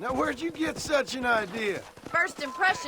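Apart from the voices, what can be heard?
No everyday noises stand out.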